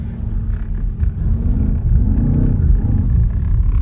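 A BMW XM, a heavy four-wheel-drive SUV in a rear-biased sport mode, rumbles steadily while drifting, its deep engine note rising and falling in a continuous low, close drone.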